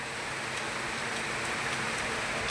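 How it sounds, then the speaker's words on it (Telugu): Steady rain falls in a continuous, even hiss with no clear individual drops, moderately loud and unbroken for the whole stretch, with no voices. "వర్షం పడుతుంది"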